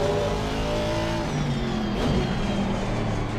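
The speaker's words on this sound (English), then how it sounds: "We're driving the Aston Martin here in the GP part of the Nordschleife" An Aston Martin racing car in a video game roars at steady high revs through the Nordschleife of the Nürburgring, a loud continuous engine drone with shifting pitch.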